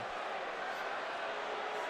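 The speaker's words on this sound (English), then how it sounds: "Crowd not liking that." Basketball arena crowd at a Michigan Wolverines versus Northwestern game reacting with a sustained, displeased roar to a hard foul late in the game, a broad steady wash of many voices with no single sound standing out.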